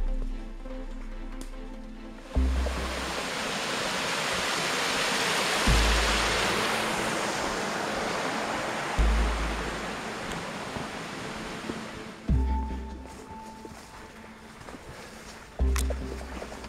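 Ocean surf rolls at South Cape Bay as a loud, continuous broadband roar with recurring louder swells every few seconds, and no voices are heard.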